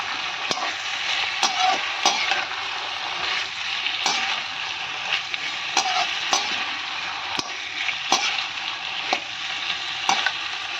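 Capsicum and potato pieces fry in a hot pan with a steady, loud sizzle, broken by the scrape and clatter of stirring throughout.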